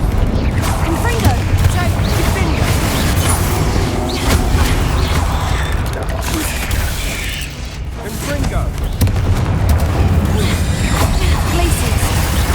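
Confringo fire spell blasts erupt in rapid succession during a Hogwarts Legacy battle, a continuous dense wash of booms, crashes and mechanical clatter with speech mixed in.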